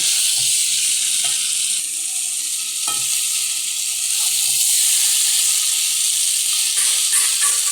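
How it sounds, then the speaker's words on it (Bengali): Green jackfruit stirred into a hot pan of sizzling cooked spice masala for achor chingri, a steady loud frying hiss with scattered scrapes and taps of the spoon against the pan. "এবার এই মশলাটাকে আমি মিশিয়ে দেব।"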